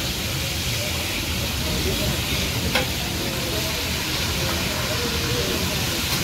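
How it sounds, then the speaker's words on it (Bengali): Hilsa fish and eggplant pieces frying in oil at a riverside stall at Mawa Ghat on the Padma at night, a loud, dense, continuous sizzle that fills the whole stretch, with faint voices under it. "ইলিশ মাছ ভাজা শুরু হয়ে গেছে।"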